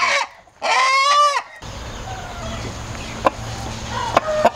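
A native fighting rooster on an aseel farm gives a loud, close crow, then softer clucks and short calls from chickens follow against a quiet farmyard background.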